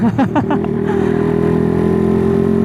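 A motorcycle engine with a tuned carburetor revs in a few quick blips, then settles into a steady, loud idle drone up close.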